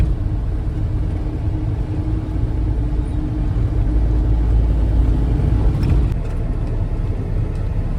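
A car driving at night on a road near Panvel, a steady low engine and road rumble heard from inside the vehicle, constant and loud with no voices.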